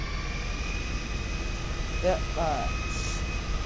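A plane's engine in the GTA video game drones steadily at a constant level, with a high tonal whine over a broad rumble; a person speaks briefly over it.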